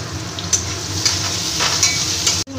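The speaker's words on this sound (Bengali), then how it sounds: "মূলো আলু দিয়ে একটু ভেজে নেব।" Radish and potato pieces fry with turmeric in a hot pan, a loud steady sizzle close up, with a few spatula stirs and light clinks before a brief cut near the end.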